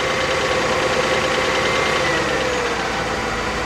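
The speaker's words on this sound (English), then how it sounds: "I think I just heard the pump." A 2006 Mercedes-Benz CLS 500 with its 5.0 engine and a pump running, a steady close mechanical hum and drone with faint knocking texture, continuous for the few seconds with no talk.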